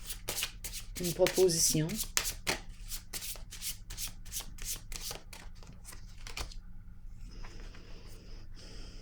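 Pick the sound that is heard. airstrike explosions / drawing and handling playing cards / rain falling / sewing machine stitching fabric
drawing and handling playing cards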